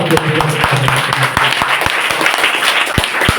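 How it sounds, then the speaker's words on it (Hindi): A crowd at a primary school event applauds a teacher with loud, continuous, close clapping, individual sharp hand claps punctuating the dense wash, with a faint voice underneath. "एक बार जोरदार तालियों से"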